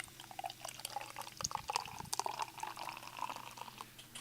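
A drink is poured into a glass close to the microphone, a soft, quiet trickle and splash of liquid with faint drips, heard on its own.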